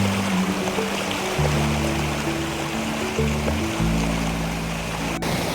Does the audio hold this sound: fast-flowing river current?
yes